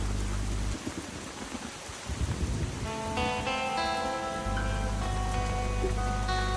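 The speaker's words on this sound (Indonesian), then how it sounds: "Ditambah gemericik air hujan dan berkabut." Steady rain falls around a forested, misty spot, with a constant wash of drops on surfaces. Low rumbles like distant thunder roll underneath, and some music-like tones rise midway.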